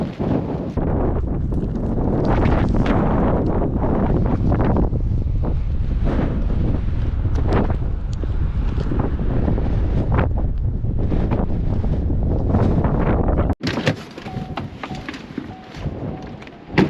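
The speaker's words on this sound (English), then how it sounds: "it's so windy here today" Strong wind roars and buffets the microphone in a loud, continuous rush, then abruptly drops to a quieter gusty background near the end.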